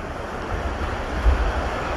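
Waves wash steadily onto a seaside beach with a constant rushing surf and some wind noise, one slightly stronger surge midway, no voices.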